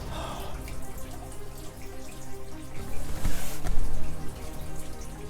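Water runs and trickles steadily in a mine shaft, splashing a bit louder partway through, with a faint dripping quality and no voices.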